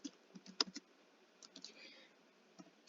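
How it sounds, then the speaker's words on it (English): Computer keyboard typing during a word processing lesson, a handful of soft irregular key clicks scattered over a few seconds, close and faint. "if I want to type here"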